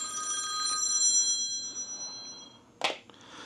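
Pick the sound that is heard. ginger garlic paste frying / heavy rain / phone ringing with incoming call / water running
phone ringing with incoming call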